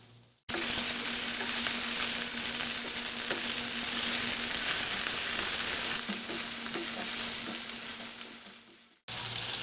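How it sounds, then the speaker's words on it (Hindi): Chicken frying with green chillies in a pan gives a loud, steady sizzle that runs almost the whole time, easing slightly near the end before cutting off abruptly. "अब मैं चिकन ऐड कर रही हूँ। हम इसे फ्राई करेंगे जब तक इसका कलर चेंज नहीं हो जाता।"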